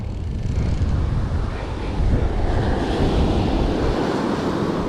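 Ocean surf breaking on an Alabama beach, a loud, steady wash of waves up close, mixed with heavy wind buffeting the microphone.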